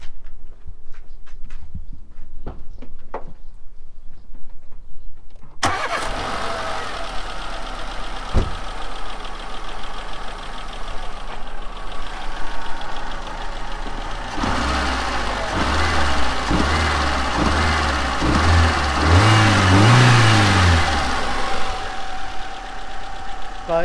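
A Renault Clio with a 1.4 K7J engine, just after throttle body cleaning: a short rattle, then the engine starts and idles steadily before a series of revs rises and falls, loud and close.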